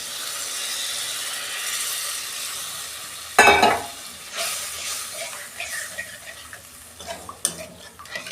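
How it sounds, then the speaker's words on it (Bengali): Water poured onto sizzling fried spice masala for a Bengali fish curry, a loud burst of hissing spatter after a steady frying sizzle, then bubbling and stirring scrapes nearby. "কষানো হয়ে গেছে, আমি পরিমাণ মতো জল দিচ্ছি"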